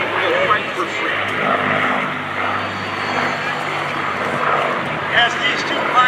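World War II warbirds fly at the MCAS Cherry Point air show, a steady droning propeller engine roar sustained throughout beneath a public-address announcer talking.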